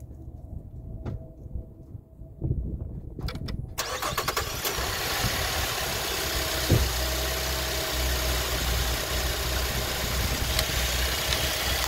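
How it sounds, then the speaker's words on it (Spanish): A 2016 GMC Acadia with a faulty purge valve cranks briefly, catches and settles into a steady, loud, close idle that runs unbroken for the rest of the span. "así que voy a arrancar el vehículo."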